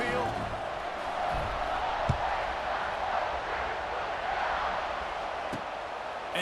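Stadium crowd in the game College Football 26 at an Ohio State game: a broad, steady roar of spectators filling the background, with a couple of sharp thuds and commentators talking over it.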